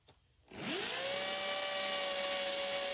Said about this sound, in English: Use the masonry drill bit with a hammer drill to drill the holes.